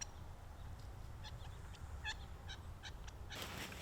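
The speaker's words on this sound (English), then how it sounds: "Just up behind me here, there's some quail." Quail call from up behind in a desert canyon, a series of short, faint, slightly nasal chirps spaced irregularly over low wind rumble, ending with a brief rustle.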